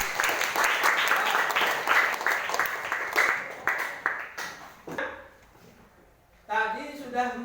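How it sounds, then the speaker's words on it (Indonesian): Classroom applause for a student group after its presentation, a dense burst of clapping that thins to scattered claps before voices and chatter rise at the end. "beri tepuk tangan"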